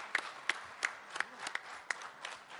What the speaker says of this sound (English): Please give a full round of applause to the Rajasthan Ophthalmic Society.